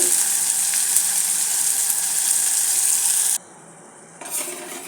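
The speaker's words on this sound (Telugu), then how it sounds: "టమాటాలు ఇవన్నీ బాగా ఫ్రై చేసుకున్న తర్వాత ఫ్రై అవుతుంటుంది" Tomatoes frying in a pan for a fenugreek-leaf dal, a loud, even hiss of sizzling oil close by that cuts out abruptly near the end, leaving quiet, then briefly resumes.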